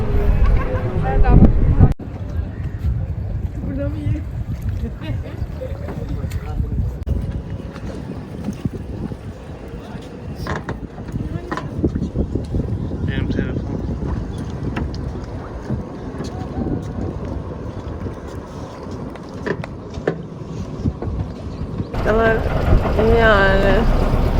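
A motorboat carrying passengers on a tour of the Ganges River at Varanasi, with a steady low engine drone and heavy wind buffeting the microphone throughout, while people talk nearby.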